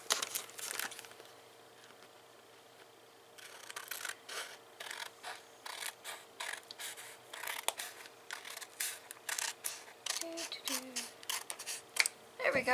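Crinkly plastic packaging around Dollar Tree lanterns is snipped open with scissors and rustled in a series of short, irregular crunches, close up, after a quiet pause.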